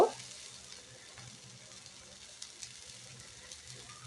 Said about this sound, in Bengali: আমি এটা কড়াইয়ের মধ্যে দিয়ে নাড়াচ্ছি